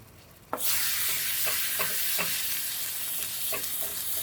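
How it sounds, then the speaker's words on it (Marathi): Onion paste hits hot oil with a sudden loud hiss that settles into a continuous close sizzle, punctuated by several stirring scrapes, with no voices. "कांद्याची पेस्ट आपण टाकतो आहे"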